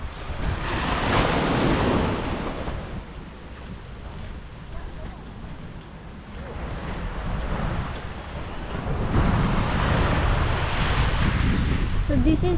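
Ocean waves break and wash onto Surin Beach in Phuket, a broad rolling roar that swells and recedes in surges, mixed with wind buffeting the microphone and faint voices.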